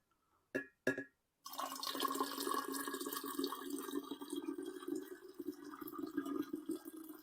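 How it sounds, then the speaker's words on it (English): Hot water poured into a batch of apple wine: two brief splashes, a short pause, then a steady continuous pour that runs to the end, close and moderately quiet. "I'm going to add hot water to start off with."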